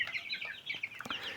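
Chickens and a rooster from a poultry batch cluck in short, broken bursts, a few quick close calls over about a second and a half with no speech.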